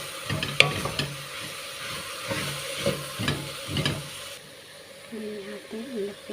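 Vegetable soup with potatoes is stirred in a pot, a spoon scraping and sloshing in several uneven strokes over a soft sizzle, close up, with a voice speaking briefly underneath.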